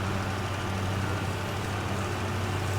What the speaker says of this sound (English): this tractor is going to struggle tremendously getting up this hill